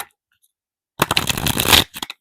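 Tarot cards are shuffled in one brief, crisp riffling burst of flicking card noise at close range, with a few soft taps as cards are drawn after it.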